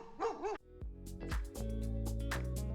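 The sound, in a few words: dogs barking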